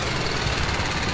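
A BMW G310R motorcycle engine runs at a steady, dense throb with a fast, even pulse, close and constant, in a BMW Motorrad showroom setting.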